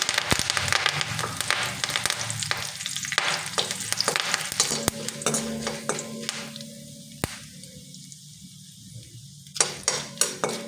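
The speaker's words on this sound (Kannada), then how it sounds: "ಕರಿಬೇವು ಹಾಕೊಳ್ತಾ ಇದ್ದೀನಿ." Curry leaves drop into hot oil in a pan while roasting for poha chivda, a loud crackling sizzle that slowly settles, with a spoon stirring and scraping against the metal pan close up and no talk.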